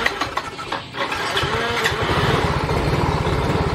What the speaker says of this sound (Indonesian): Nah ini berbet-berbet kayak gini ya.